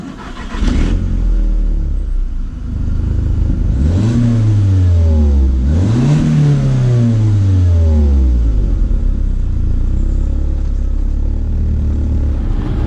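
An Audi TT accelerates hard from close by, its engine revving loudly and climbing in two strong surges of pitch before easing off, with a steady road roar and no talking.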